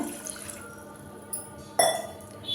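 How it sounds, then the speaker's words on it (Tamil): Water poured from a vessel into a milk-boiling pot on a stove in a home kitchen, a soft continuous trickle and splash with a brief clink of metal, close and fairly quiet. "நம்ம அதில் வந்து ஒரு சொம்பு தண்ணி மட்டும் ஊற்றிக்கலாம்"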